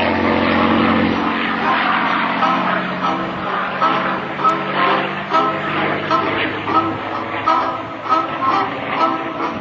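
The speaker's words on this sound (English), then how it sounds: "flying his beautiful P-51 Mustang" A P-51C Mustang propeller airplane drones steadily overhead at an airshow, its engine a loud, continuous roar with a throbbing pulse that swells slightly as it passes.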